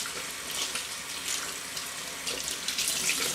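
Water runs steadily from a bathroom sink tap, a continuous close splashing hiss that pulses slightly as hands move through the stream.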